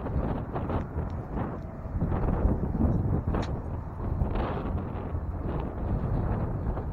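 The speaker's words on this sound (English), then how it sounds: "It is really windy." Strong wind in Branson, Missouri buffeting the microphone in rough, rumbling gusts that rise and fall continuously.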